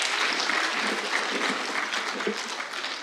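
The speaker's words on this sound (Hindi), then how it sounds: "जोरदार तालियों से उनका इस्तकबाल किया जाए" An audience at a poetry gathering breaks into steady, enthusiastic clapping to welcome the poet Abbas Qamar from Jaunpur, a thick continuous patter with individual claps standing out, and no talking.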